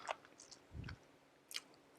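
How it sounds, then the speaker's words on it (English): A dog gnaws on a bone at close range, making a few sparse crunches and wet clicks with quiet gaps between them. "She loves chewing on the bone."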